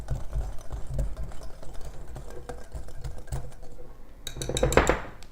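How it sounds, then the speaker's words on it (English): A whisk stirs unbleached and whole wheat pastry flour in a bowl, giving quick, soft rhythmic scraping and light clinks against the bowl, ending in a brighter clattering flurry. "I'm just going to whisk that together."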